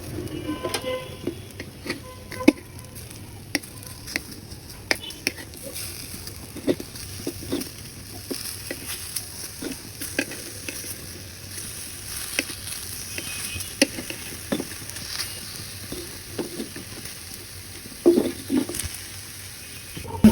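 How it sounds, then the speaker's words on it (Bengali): Sweet pumpkin sizzles steadily in a pan while being flipped, with scattered scrapes and taps of a utensil over a constant frying hiss, close and moderately quiet. "এখন আমি মিষ্টি কুমড়ো উল্টাইয়া দিব।"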